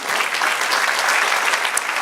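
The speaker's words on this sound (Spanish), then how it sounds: "Dale un aplauso al Señor." A church congregation applauds during a Spanish-language sermon, a steady, dense wash of many hands clapping at even loudness for the whole stretch, with no voices standing out.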